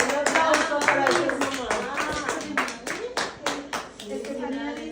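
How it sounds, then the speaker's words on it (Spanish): An audience at a church gathering claps in applause, a dense, steady patter of many hands that swells and then fades, with voices and children speaking underneath. "Un aplauso para ellos."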